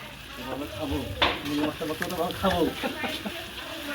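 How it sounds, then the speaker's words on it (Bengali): Meat stirred in a hot frying pan: repeated scraping and stirring strokes over a loud, close sizzle, with a sharp clack partway through. "নাড়াচাড়া করছে আর শাওন মাংস দিচ্ছে"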